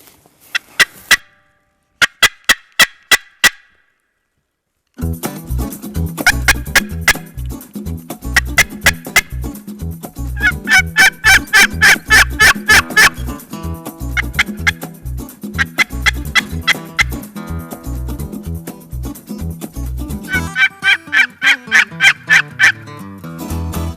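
A wild turkey gobbler sounds off in the woods during a turkey hunt, delivering loud, rapid gobbling bursts in repeated bouts separated by short pauses, close and clear, with no talking.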